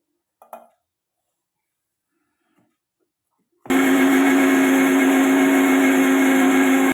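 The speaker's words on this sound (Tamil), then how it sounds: "எடுத்து வச்ச மசாலாலாம் இப்போ நம்ம மிக்சியில் போட்டு அரைச்சிப்போம்." A kitchen mixer grinder grinding masala for a Kerala fish curry starts abruptly after a quiet stretch with a few faint knocks, then runs as a loud, steady whirring whine until the end.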